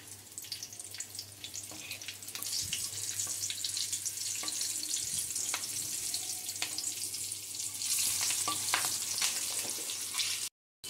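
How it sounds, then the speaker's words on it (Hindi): Nigella seeds and three or four green chillies dropped into hot oil left from frying fish give a steady, crackling sizzle that swells partway through, close and continuous, then cuts off abruptly at the end. "इसी तेल में काला जीरा डाल देंगे मतलब कलौंजी, और 3-4 हरी मिर्च।"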